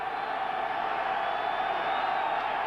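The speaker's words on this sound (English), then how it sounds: "Crowd rising" A football stadium crowd at a Miami at New England game keeps up a steady, far-off roar that swells slightly, with no distinct cheers standing out.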